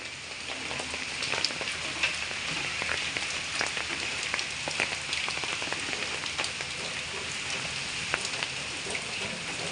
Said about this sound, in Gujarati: હેલો ગાઈસ, તો જો વરસાદ ચાલુ થઈ ગયો છે